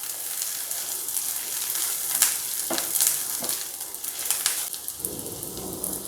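Cashew nuts sautéing in a hot pan for matar paneer, a steady close sizzle and crackle with occasional stirring scrapes throughout, no talking.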